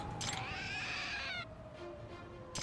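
A cat statue in the game Lost Judgment gives a drawn-out, wavering meow, clear and close, ending in a faint tail amid soft background game noise.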